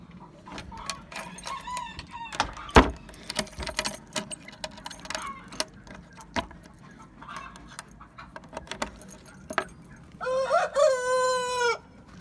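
Hens cluck and chatter close by amid scattered clicks and rustling, then a rooster lets out a loud, drawn-out crow near the end.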